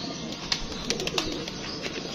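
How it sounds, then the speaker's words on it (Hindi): Pigeons cooing softly nearby, with a few brief wing flutters and scattered calls over a steady background hum. "बहुत अच्छा कबूतर है। ये गया जी"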